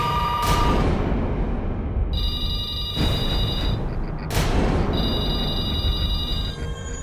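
A telephone rings in two long bursts with a short gap between them, over a loud, dense low rumble of background noise.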